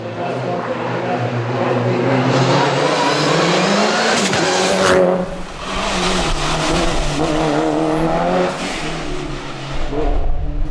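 Mitsubishi Evo four-wheel-drive race car at a hill climb event, its engine loud and close, revving hard through rising gear changes with brief tyre squeal and crowd-level background noise.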